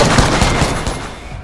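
Rapid gunfire in Apex Legends, a burst of loud close shots in quick succession with a dense crackling texture, fading slightly toward the end, with no talking.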